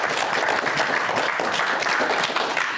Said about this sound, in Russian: Мы поддержим вас аплодисментами.